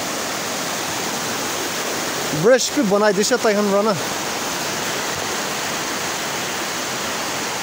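A river rushes steadily near a bridge on a maintained road, a continuous broad roar filling the scene from start to finish, with someone briefly talking over it for a few seconds.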